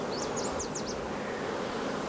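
A hive of some 50,000 honeybees gives a steady, dense drone that holds at an even level throughout, with a brief chirping bird call near the start.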